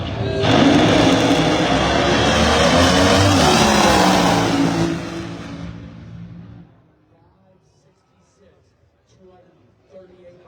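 A nitro Funny Car makes a drag race run at the March Meet, with a thunderous engine roar under an announcer's voice that fades as the car pulls away, leaving faint chatter.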